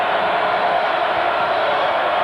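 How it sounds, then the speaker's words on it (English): Roaring crowd noise in a packed basketball arena during UNLV vs New Mexico State, a loud, steady wash of cheering with no breaks. "I believe it's the crowd that won't allow them to quit"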